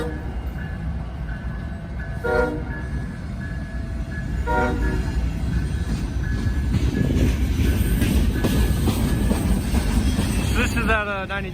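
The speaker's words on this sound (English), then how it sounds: "We then see conductor Pool again on a ballast train taking the Frankfurt line." A ballast train passes on the Frankfurt line, with several horn blasts and a building rumble of wheels and clattering cars rolling by close to the listener.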